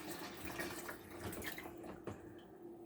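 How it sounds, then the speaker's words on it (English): Water pours into a kitchen sink with a faint, continuous splashing trickle and a few soft drips, close but quiet. "I'm going to pour the water in."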